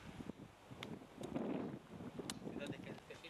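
Wind buffeting a microphone in an 800-900 year old graveyard, uneven low rumbling gusts swelling in the middle with a few sharp clicks, close and fairly quiet.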